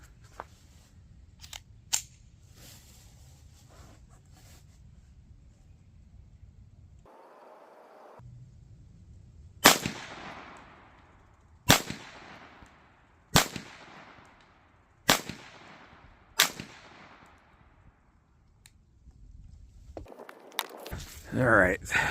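A Taurus TX22 Competition .22LR pistol fires six sharp shots at a range, spaced roughly one to two seconds apart with short ringing tails. Quieter handling clicks and shuffling come before the shots, and a voice speaks at times around them.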